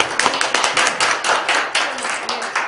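Audience clapping to welcome a guest, a former bank president, onto a Korean book-talk stage; brisk, dense applause close by with steady rhythmic beats and no talk over it.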